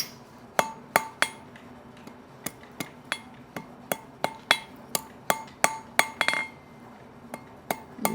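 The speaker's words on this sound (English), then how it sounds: "I'm going to clean this up real quick with the hammer" Sharp metallic hammer blows ring out on a steel drift at a blacksmith's anvil, about twenty close, loud strikes in an irregular rhythm with short pauses, some landing in quick pairs.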